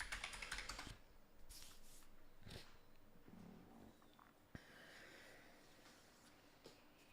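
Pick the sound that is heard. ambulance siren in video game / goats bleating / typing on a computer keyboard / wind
typing on a computer keyboard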